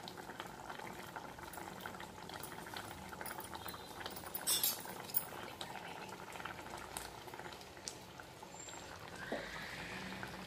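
Ridge gourd curry simmering in a pot, a steady close bubbling with soft popping and occasional faint clinks, low in level and continuous throughout without talk.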